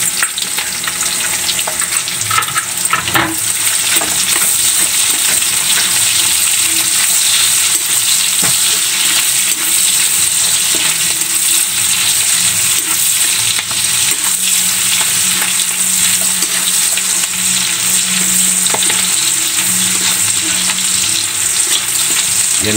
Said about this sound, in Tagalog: Ilagay na natin yung sibuyas natin.